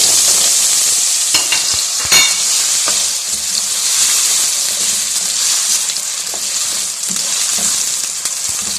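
Three sliced potatoes fry in four tablespoons of hot oil, making a loud, continuous, close sizzle with a few sharp clicks and pops, and no talking.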